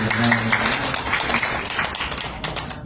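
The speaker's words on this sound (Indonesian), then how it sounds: "Tepuk tangan Bapak Ibu" A seated audience of men and women at a presentation gives a continuous round of applause, with dense overlapping claps that are fairly loud and steady and taper slightly toward the end.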